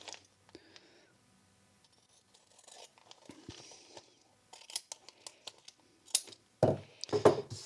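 Sealed packaging of a Diamond MAT50 magnetic mount is cut open, with scattered crisp snips, crinkles and tearing rustles building into a louder burst of crunching plastic near the end, close by with no talk.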